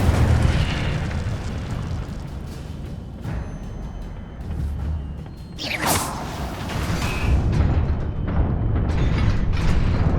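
Incendio fire spell cast in Hogwarts Legacy: a loud, roaring fiery burst with a rumbling boom and a sharp whooshing flare partway through, thick with layered game effects and no talking.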